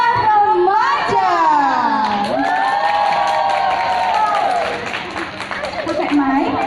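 An audience cheers and shouts at a school talent event, with youthful voices whooping loudly and some clapping, the noise fading toward the end.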